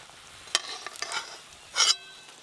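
Eggplant fritters (beguni) being fried in oil in a village kitchen, with soft sizzling and a few sharp scraping stirs, then a brief louder burst of sizzle near the end; no one speaks.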